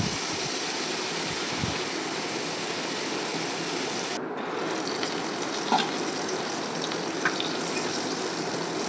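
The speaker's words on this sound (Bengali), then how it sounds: "শুকনো লঙ্কা, কালো জিরে, কাঁচা লঙ্কা ফোড়ন দিলাম তেলের মধ্যে" Dried chilli, black cumin seeds and green chilli tempering in hot oil give a steady, close sizzle and hiss that runs through the whole stretch with small crackles and pops, and no one talks.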